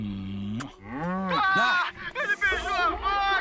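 A cow in Just Cause 3 lets out a long, wavering bleat-like moo, repeated in several drawn-out pitch-bending calls, with an excited voice chattering around it.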